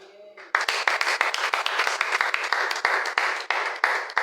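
A church congregation bursts into loud, sustained applause to acclaim Jesus, with dense rhythmic clapping that follows a brief quiet moment and continues steadily to the end.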